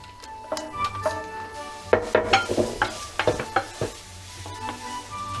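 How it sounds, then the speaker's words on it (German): Onion and garlic sweat in a pan for spinach-ricotta cannelloni, a steady sizzle under clattering utensil scrapes and clinks, busiest in the middle, close and moderately loud with no talk. "Zwiebel, Knoblauch anschwitzen"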